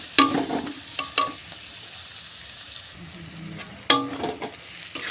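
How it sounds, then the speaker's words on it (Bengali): Green chillies frying in oil in a pan for a spicy rohu fish curry, stirred with a utensil: sharp scraping knocks at intervals over a soft, steady sizzle, close and moderately loud. "এবার এটাকে আর একবার নেড়ে দেব লঙ্কাটাও ভালোভাবে তেলেতে একটু হালকা ফ্রাই হয়ে যাবে"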